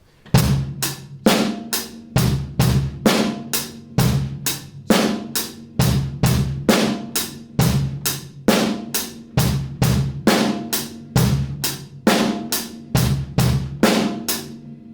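A steady drum kit groove with bass drum, snare and hi-hat, played at a moderate, even tempo, close and fairly loud, with no voices.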